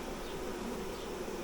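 A honey bee swarm gathers at a nucleus hive, giving a dense steady buzz of many bees flying all around, even and continuous without any voices.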